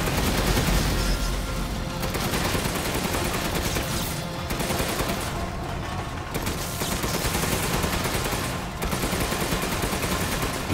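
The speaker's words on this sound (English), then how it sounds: "It takes the cannon a while to reload," Continuous heavy cannon fire and explosive booms from a battle in Resident Evil Village, dense and loud throughout with no pauses and no talking.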